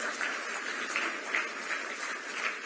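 Sustained audience applause at an appointment letter ceremony for community health officers, many hands clapping in a steady, moderately loud wash with slight swells.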